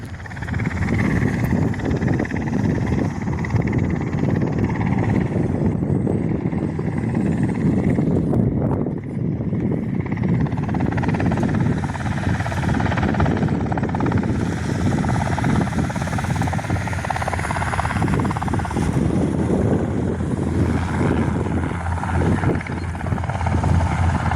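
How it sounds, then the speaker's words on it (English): A Cessna C-150 light aircraft doing a touch and go on a windy day, its engine a loud, sustained droning roar close by, with buffeting wind noise and no voices. "Cessna C-150 doing a touch and go."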